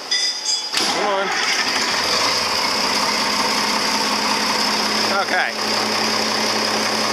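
A 5020 tractor engine catches after a brief moment and settles into a loud, steady idle with a constant rumbling drone, while a person speaks briefly over it.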